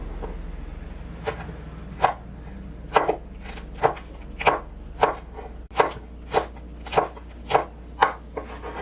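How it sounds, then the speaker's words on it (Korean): A knife roughly chopping zucchini on a cutting board while preparing a wild mushroom stew, about a dozen sharp, fairly evenly spaced chops close by with no talk. "호박도 이렇게 덤성덤성 썰어놔 주시면 되고요"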